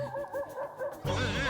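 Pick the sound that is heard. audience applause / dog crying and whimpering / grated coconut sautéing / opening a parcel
dog crying and whimpering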